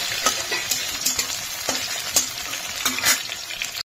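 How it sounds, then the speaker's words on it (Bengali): Diced potatoes frying in oil with cumin seeds while chopped papaya is added, giving a loud steady sizzle broken by repeated scraping stirs of a spatula, with no voices. "আলু কেটে ডুমডুম করে বসিয়ে দিয়েছি, জিরে ফোড়ন দিয়েছি, আর এর মধ্যে দেবো পেঁপে"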